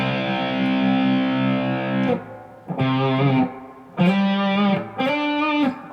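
A distorted electric guitar plays sustained chords and notes, each ringing out with a washy reverb tail, loud and close with brief gaps between phrases.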